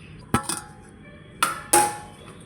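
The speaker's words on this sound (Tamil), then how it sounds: "இப்போ இது ஒரு மூடி போட்டு மூடி வச்சிடலாம்." A lid goes onto a bowl of rava sweet paniyaram batter with three sharp metallic clinks and knocks, close and distinct, separated by a short quiet pause.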